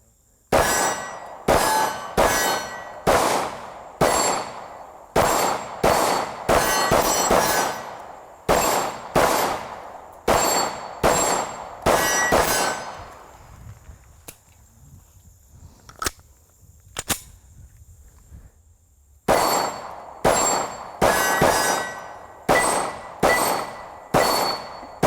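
Smith and Wesson SD9VE 9mm pistol firing, two long strings of loud sharp shots with ringing metallic clang, rapid and evenly spaced, broken by a quieter pause of handling clicks before firing resumes.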